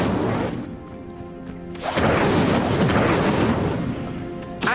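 Incendio fire spell cast in Hogwarts Legacy: a loud, broad roaring burst of flame erupts after a brief lull, sustained whooshing fire with booming low end, then a final flare at the close.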